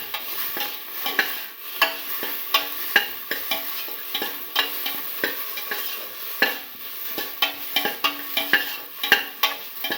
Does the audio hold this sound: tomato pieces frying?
yes